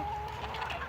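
A blue Pekin bantam hen with her chick gives soft, close clucks in a short run, murmuring steadily over a quiet farmyard hum with a sharper note at the end.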